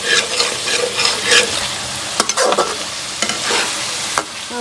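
Chicken frying with masala for a kachnar curry, the sizzle of the hot pan broken by repeated scraping strokes of a spoon stirring close by.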